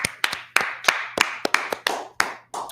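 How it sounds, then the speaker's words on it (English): Handclapping from a class at a religious teaching session, a handful of separate sharp claps with uneven spacing. The claps sound close and fairly loud, with no talking underneath. "Clap it up for the class."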